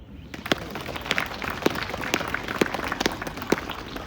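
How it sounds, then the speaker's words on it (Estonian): Outdoor audience applause at a spring town-festival opening on a stage, a scattered patter of claps with a few sharper hand claps standing out, moderate and fairly sparse over four seconds. "Aplaus."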